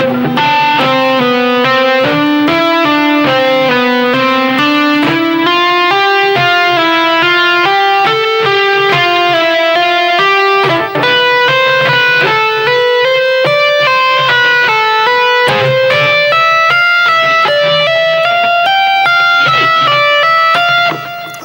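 Heavily distorted electric guitar plays a continuous melodic line in D Dorian, loud and sustained throughout with no pauses.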